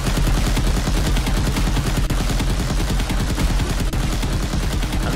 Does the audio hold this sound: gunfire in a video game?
yes